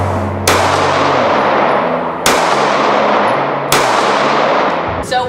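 A Glock 43X pistol, fitted with a Baldr Mini light on a Recover Tactical rail, fires three loud, sharp shots about 1.5 seconds apart at close range, each with a ringing tail that fades before the next.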